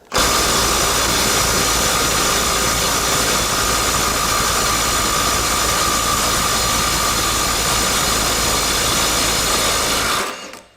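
A loud, steady, sustained mechanical roar from a stubby cordless impact wrench driving a bolt at 400 foot-pounds in speed mode 3, running close and nonstop for about ten seconds before cutting off.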